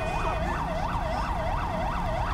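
An ambulance siren wails in GTA 5, a loud, steady up-and-down yelp repeating about every third of a second, with a low road rumble beneath and no talk.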